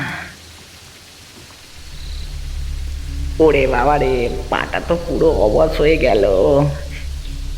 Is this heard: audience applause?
no